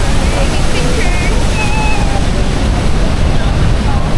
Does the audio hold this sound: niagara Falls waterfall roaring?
yes